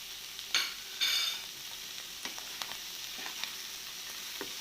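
Clam meat roast with masala being stirred in a pan, with a couple of scraping strokes near the start followed by soft, intermittent scrapes over a low sizzle.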